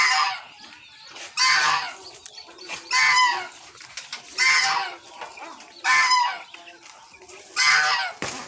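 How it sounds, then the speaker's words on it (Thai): Phu Phan black chickens cluck in repeated loud bursts about every second and a half, close by, with quiet gaps between each outburst. "อันนี้คือไก่ดำไก่ดำภูพาน"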